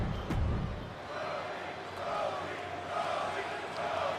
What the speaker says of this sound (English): Crowd here tonight is chanting Cody.